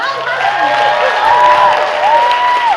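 A crowd applauds and cheers loudly, with whoops and shouting voices rising over the clapping throughout.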